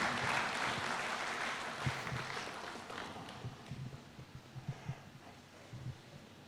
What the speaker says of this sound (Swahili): Tumpigie Rais makofi kwa hiyo kazi.